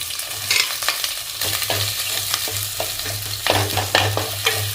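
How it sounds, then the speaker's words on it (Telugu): Onions fry in a pan with cinnamon, cloves, cardamom and green chillies for a paneer dum biryani. A steady close sizzle runs throughout, broken by repeated scraping stirs of a spoon against the pan. "ఇది బాగా ఫ్రై అవ్వాలి బాగా ఫ్రై అయ్యి గోల్డ్ కలర్లో వస్తే అప్పుడు బిర్యానీ కలర్ కూడా బాగుంటుందండి"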